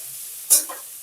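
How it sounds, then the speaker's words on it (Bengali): Potato, carrot and capsicum frying in a pan are stirred once, a brief scraping swish over a steady soft sizzle, with no talking. "এবার সবগুলোকে একসঙ্গে আরেকবার মিশিয়ে নেব।"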